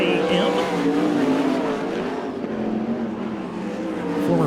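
ASCS desert sprint cars race in a heat at Arizona Speedway, their engines a loud, continuous, throaty roar with shifting pitch as the pack circles the track, with a possible voice underneath.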